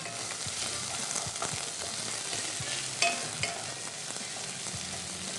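Onion pieces sizzling steadily in hot oil in a pan while browning for prawn pulao, with occasional stirring scrapes and no talking.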